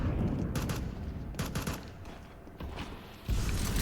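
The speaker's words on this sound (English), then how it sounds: "He gets lasered by Bexy's AK." AK rifle fire in a Counter-Strike esports match, dense rattling bursts of shots layered in noisy game sound, loud and close with a brief dip before a renewed burst.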